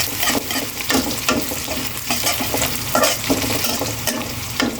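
Onions frying and being stirred in a pan for a Bengali koloi shaak (grass pea greens) dish, a steady close sizzle broken by repeated scraping strokes of a spoon against the pan, with no voices.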